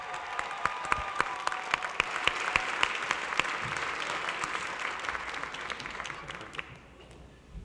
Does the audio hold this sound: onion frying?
no